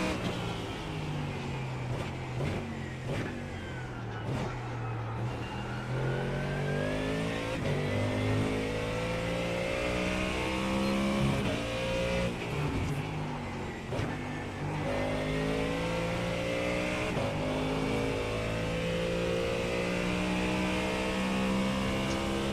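A NASCAR Cup Series stock car in a racing game at Phoenix, its engine note rising and falling through repeated revving and gear changes, steady and loud with no one talking.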